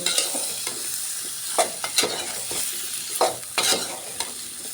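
Potato and eggplant curry with spices stir-frying in a pan, a steady sizzle broken by sharp scrapes and clacks of a spatula at an irregular pace, close and fairly loud.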